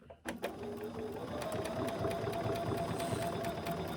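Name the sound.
sewing machine top stitching a fabric mask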